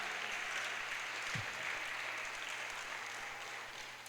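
A church congregation applauds during a sermon, producing a dense, even wash of clapping at moderate distance that holds steady and eases slightly toward the end.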